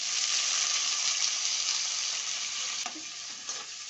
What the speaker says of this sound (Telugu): ఆయిల్ పోసుకున్నాక ఈ ఉల్లిపాయ, టమాటా ముక్కలన్నీ కట్ చేసుకుని వేసుకోవాలండి